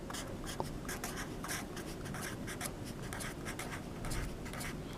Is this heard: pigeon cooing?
no